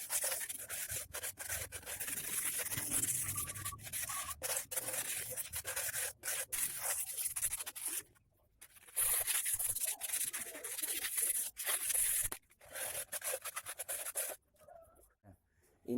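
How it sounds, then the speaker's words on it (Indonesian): Sandpaper rubbed by hand over a freshly cast cement flower pot, giving close, steady scraping strokes with a few brief pauses, alone without talk. "ini selanjutnya kita tinggal amplas sedikit-sedikit untuk yang kurang rata"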